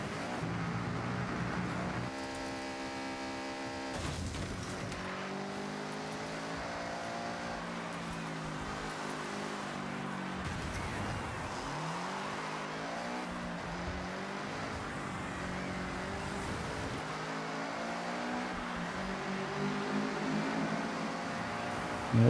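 A Subaru's engine in Forza Horizon 6 on Legend Island rises and falls through repeated gear changes while racing, a sustained close whine sweeping up and down for a long stretch without talk.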